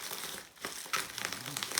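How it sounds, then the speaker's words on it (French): Bubble wrap inside an airsoft parcel is handled during unboxing, giving brief close crinkling and rustling with a short lull in the middle. No one speaks. "Il y a quand même du papier bulle"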